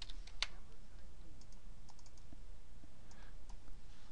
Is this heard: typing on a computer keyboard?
yes